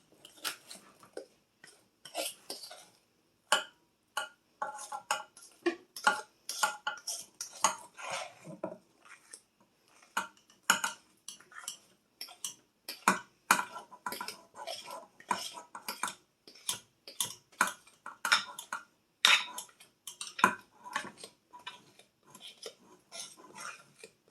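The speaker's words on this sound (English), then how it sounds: "we're going to dump the contents of the bowl into the Bunt pan" Chocolate cake batter is scraped out of a bowl into a bundt pan, giving a long run of quick clicks, scrapes and clatters of a utensil on the bowl, close, irregular and busy, with no talking.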